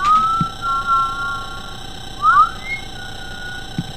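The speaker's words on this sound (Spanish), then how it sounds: "¿Qué me chiflas, pendejo?" Whistling in the horror video game IMSCARED: a few short, clear whistled notes with a rising two-note swoop partway through, heard alone over a steady electronic hum.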